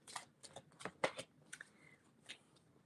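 Cards of a Sacred Geometry of Activations oracle deck being shuffled: a run of quick, crisp riffling bursts with short pauses between them, close and fairly quiet with no talking.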